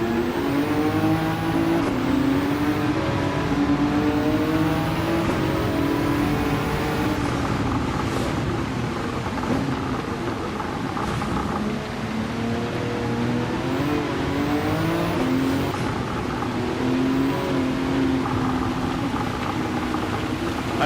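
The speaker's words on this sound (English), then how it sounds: "That was a VGT rotary that was making those spinny noises." Rotary-engined VGT race car in Gran Turismo 7, its high spinning whine rising and falling through gear shifts, steady and loud throughout the stretch with no one speaking.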